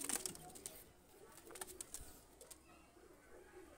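Pakistani Oman pigeons coo softly in the distance amid faint rustling and a few brief clicks and flutters, low in level throughout.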